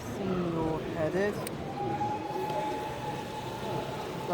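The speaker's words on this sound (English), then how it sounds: "Class 156 blasts away at high speed." A Class 156 diesel model train rushes past at speed with a loud continuous rumble and a drawn-out tonal whine, while a voice talks briefly at the start.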